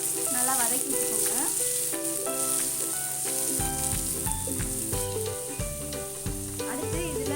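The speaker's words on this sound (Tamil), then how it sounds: "நல்லா வதக்கி வச்சுக்கோங்க" Chopped onions and mustard seeds fry in hot oil for a goat blood fry, giving a steady soft sizzle with occasional stirring. Background music plays over it the whole time.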